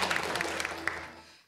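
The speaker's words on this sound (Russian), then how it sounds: "Аплодисменты!" A short burst of audience applause breaks out in a studio talk show and fades out within about a second and a half.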